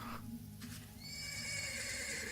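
Horses whinny and neigh in the fantasy game Ash of Gods, a shrill drawn-out call over a low ambient drone with faint hoof movement, fairly quiet and without speech.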